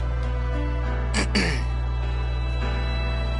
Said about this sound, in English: I could have just coughed regularly because I did need to cough.